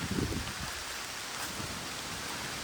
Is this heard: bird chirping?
no